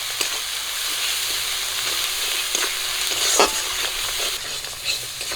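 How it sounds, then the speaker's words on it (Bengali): Turmeric, salt and chilli powder frying in oil for a village-style rohu fish dish, a steady hiss of sizzling with occasional spatula scrapes and clinks, close by. "হলুদ গুঁড়ো স্বাদ মতো লবণ দিয়ে দিচ্ছি লঙ্কা গুঁড়ো মশলাগুলো একটু ভাজবো"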